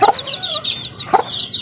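A hen clucks close by while high, thin chick peeps chirp repeatedly over the short stretch.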